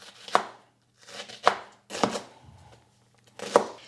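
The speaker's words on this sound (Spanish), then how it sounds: "ahora lo vamos a cortar en trozos, ni muy grandes ni muy pequeños" A knife chops a leek into medium pieces on a cutting board, four sharp close thuds spaced about a second apart with brief crunching between them.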